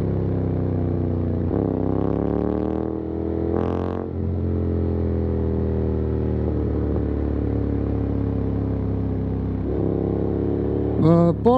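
A Honda X-ADV 750 scooter hums steadily while ridden, its engine note rising and falling through several gear changes, with a brief clatter near the end.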